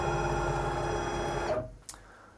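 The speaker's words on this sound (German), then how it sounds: "Die Maschine fährt sich wieder frei, fährt zum Werkzeugtaster" A CNC milling machine on a Probe Basic setup hums and whines steadily as it moves clear toward the tool probe, then the motion stops abruptly, leaving a faint click and near silence.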